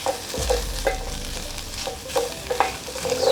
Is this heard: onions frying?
yes